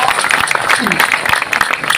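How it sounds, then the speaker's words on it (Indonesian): An audience at an Islamic lecture gathering of NU Batam residents claps in a dense, continuous burst of applause, loud and sustained throughout. "Tepuk tangan untuk warga NU Batam"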